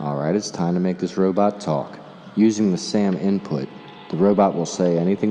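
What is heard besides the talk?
No everyday noise stands out behind the speech.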